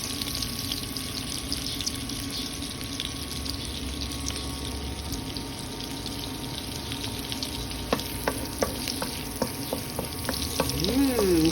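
Garlic fries in a mix of butter and oil, a continuous sizzling hiss heard up close, joined by running water and a few sharp clinks and stirring scrapes toward the end; no one speaks.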